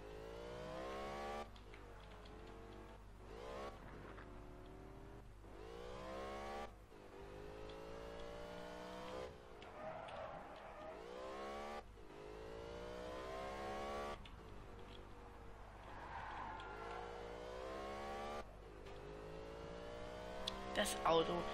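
A car engine in the racing game Alarm für Cobra 11 Undercover repeatedly revs up in rising, whining sweeps during a five-player race, each surge briefly dropping off before climbing again, steady and moderately loud.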